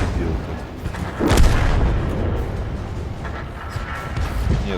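A Soviet SU-122A self-propelled artillery gun fires in a tank video game, one heavy booming shot with a sharp crack and a rolling, low tail, loud and close, with engine rumble and some voice around it.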